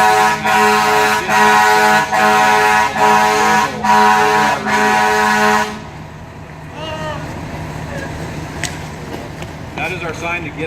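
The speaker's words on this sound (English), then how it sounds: "horn blast is an emergency evacuation signal. You're going to hear the air horn blast." A fire department air horn sounds as an emergency evacuation signal during a firefighter graduation demonstration in California: a series of loud, sustained blasts with short gaps, followed by fainter crowd noise and distant sounds.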